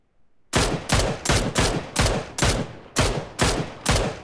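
Nine sharp, evenly spaced gunshots fired in PUBG on the Miramar map, loud and close, following a brief silence, with no voices over them.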